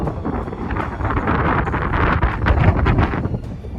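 Strong, steady wind roars across the summit of Mount Fuji, buffeting the microphone with continuous gusting noise and no talk.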